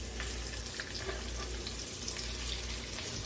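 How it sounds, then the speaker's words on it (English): Steady, quiet sizzling of chicken frying in butter and vegetable oil in a pan, a constant crackle with a low hum beneath and no talking. "we've got our chicken francaise frying in about 2 tablespoons of butter"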